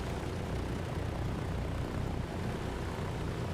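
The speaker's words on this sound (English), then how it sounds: "Listen to Wayne's Merlin as we shut down" A Douglas DC-3's Merlin engine drones steadily as it is being shut down in a flight simulator, a loud, even propeller roar heard alone, with no talking.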